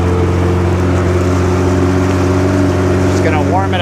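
Sea-Doo GTX DI jet ski engine idles steadily while warming up with the seat cover off, a loud, even low-pitched hum with a brief whining chirp near the end.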